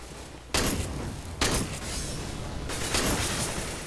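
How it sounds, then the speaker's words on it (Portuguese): Gunfire in the shooter game CS:GO comes as a few loud, sharp bursts spaced about a second apart, each trailing into a noisy wash before the next. "Nossa, eu derrei um tanto de tiro no cara aqui"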